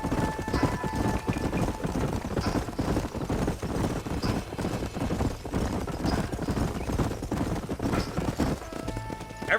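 Horse hooves clip-clop steadily over ground in Red Dead Redemption as a group of riders moves along, with occasional whinnies and faint voices in the background.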